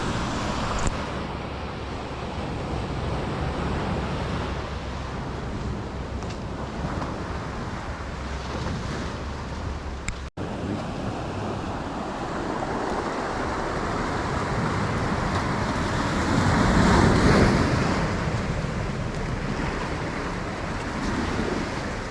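Surf rolls continuously onto a beach at Sayulita, Mexico, a broad steady wash of waves swelling louder toward the end, mixed with gusty wind buffeting the microphone.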